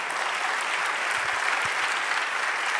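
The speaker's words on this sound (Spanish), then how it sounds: "Denle un aplauso al Señor." A church congregation applauding during a sermon, a dense, steady roar of many hands clapping at once, full and even throughout.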